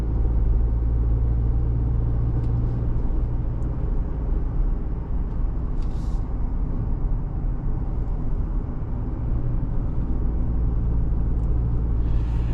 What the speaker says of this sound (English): There is definitely some engine noise with the Colorado on that Turbo Max engine